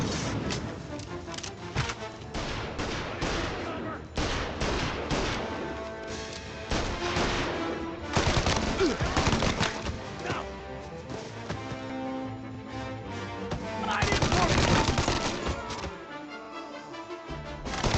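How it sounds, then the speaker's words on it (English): Bursts of Mafia: Definitive Edition gunfire and machine-gun rattle, loud and repeated, with heavy booms and crashes layered over a constant backdrop of game noise. "All on-duty officers, gunshots being reported."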